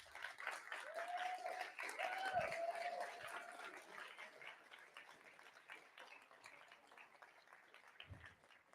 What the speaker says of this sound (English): Let's give a big round of applause for James, Owen, and Destiny